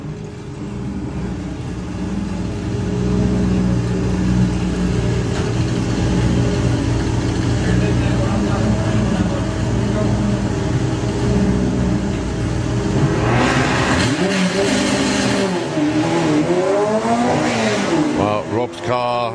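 A VW Beetle and an Audi S4 drag racing at a Bug Jam qualifier, engines roaring loud and sustained before a sharp revving burst and rising whine near the end, with a commentator talking over it.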